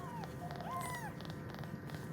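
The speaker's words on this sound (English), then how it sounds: "It's Panda purring." A cat named Panda purrs as a low continuous rumble at close range, with a few faint high chirps or mews over it and no talk.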